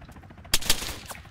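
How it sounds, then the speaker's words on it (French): Gunfire in the military shooter Arma 3: two sharp, close shots in quick succession followed by a fainter third crack, over quiet game ambience. "on tire dessus"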